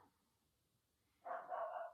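A dog barking at someone passing by gives a couple of faint, short barks indoors after a quiet stretch.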